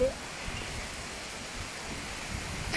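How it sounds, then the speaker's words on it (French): Rain falls outdoors during a storm as a steady, fairly loud broadband hiss, with a brief faint voice-like tone at the start. "Il se met à pleuvoir. Je me prends des gouttes de pluie."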